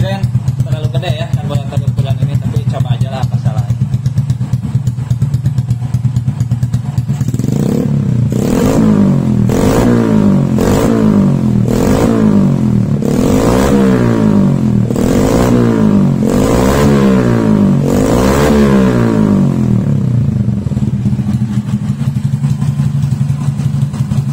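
A motorcycle engine fitted with a PE BRT carburetor idles roughly, then is revved hard again and again in loud, rhythmic bursts close by before settling back to idle.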